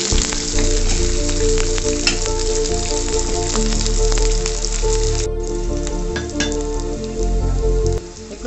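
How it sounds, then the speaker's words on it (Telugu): Onions and green chilies sizzle loudly and continuously in hot oil for veg fried rice, a close, dense crackle with occasional stirring clinks and no speech. "ఇప్పుడు ఆనియన్స్ వేసాను, పచ్చిమిర్చి కూడా వేస్తున్నాను"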